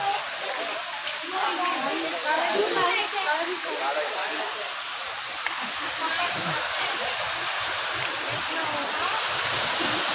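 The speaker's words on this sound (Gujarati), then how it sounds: "આ રીતનું કંઈક નદીમાં પાણી આવે છે" Steady rushing water pours into a pool at the Swaminarayan temple in Gadhada, a broad continuous wash, with voices talking faintly underneath.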